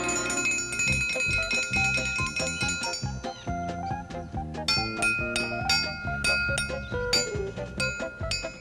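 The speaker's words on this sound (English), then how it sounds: "You rang the dinner bell. Oh, dinner's not ready yet. I was just testing the triangle." A metal triangle rings repeatedly as a dinner bell, bright sustained tones layered with a melodic musical backing, loud and close throughout.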